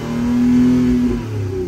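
A 2018-2024 Toyota Camry engine revs up and holds a rising, droning pitch, then eases back down, loud and close, with no talking.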